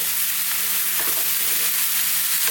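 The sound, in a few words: vegetables frying and being stirred in a pan for chili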